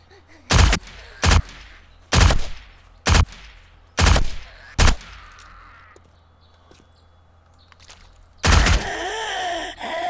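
Gunfire from a submachine gun in the zombie survival game 7 Days to Die, heard as six loud, sharp separate shots spaced about half a second apart. A heavier burst follows after a pause, with no talking.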